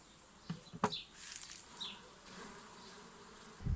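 A swarm of honey bees buzzes faintly at an apiary, a soft hum with a few brief louder passes as single bees fly close.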